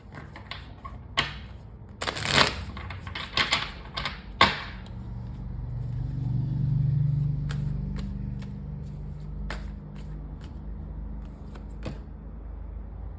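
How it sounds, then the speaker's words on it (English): A tarot card deck shuffled and cut by hand, with a burst of riffling and slapping card sounds early on, then scattered light clicks and taps over a low hum. "they're going to cut the deck"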